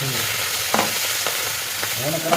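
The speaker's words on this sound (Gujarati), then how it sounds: "તો મરચાંને થોડા શેકી દેવાના" Stuffed green chilies roast in hot oil with cumin in a pan, giving a steady close sizzle broken by a few sharp spatula scrapes.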